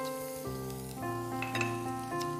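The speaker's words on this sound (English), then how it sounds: "So I'm just going to add a little more oil so that we can nicely saute our onions and garlic. So we're going to add the garlic first." Garlic sautés in oil inside a multi-cooker pot, with a steady close sizzle beneath a constant electrical hum whose pitch steps up and down.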